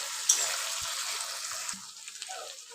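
Tomatoes and onions sizzle and fry in a pan as they are stirred together, a steady hiss with a few soft scrapes and clicks of the spoon, close and fairly loud, easing slightly toward the end.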